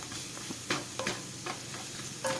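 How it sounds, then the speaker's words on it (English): Spices being stirred in a pan over low flame for Kerala beef curry, soft sizzling beneath a few sharp scraping taps of the spoon against the pan. "Give everything a good stir."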